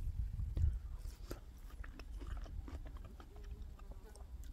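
Close crunchy bites into a Spring Blush apricot, with several sharp crackles over a low rumble, steady munching throughout.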